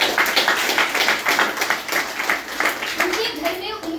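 An audience claps for a chairwoman at a home meeting, a dense, steady round of applause that holds for several seconds, with children's voices faintly mixed in.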